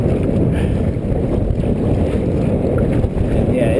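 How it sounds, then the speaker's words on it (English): Strong wind buffets the microphone while kayaking on open water in a Heritage Featherlite kayak, a loud, steady low roar of gusts with faint water sounds beneath and no break throughout. "And yeah, it's definitely windy."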